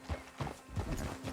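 Horse hooves clip-clopping at a steady trot in the western video game Red Dead Redemption 2, a rhythmic series of close, moderately loud hoofbeats on the ground.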